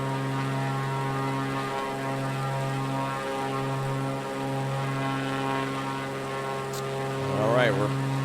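A propeller airplane engine climbing for altitude over Rio in Microsoft Flight Simulator gives a steady droning hum with strong tonal harmonics, holding constant before a brief warbling pitch shift near the end.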